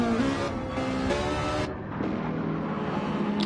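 A Ferrari engine roars in an online racing video game with a full field, a loud sustained drone that shifts pitch as it revs and changes gear, with no talking.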